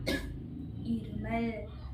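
A single sharp, close cough voiced as a demonstration during a classroom vocabulary lesson, followed by brief low vocal sounds.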